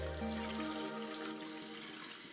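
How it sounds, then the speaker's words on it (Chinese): Beef pieces being rinsed under a running kitchen tap, with a steady splashing stream of water hitting meat and sink close up, continuous and fairly quiet throughout, with no talking. "把牛肉拿出来，再用流水清洗一下。"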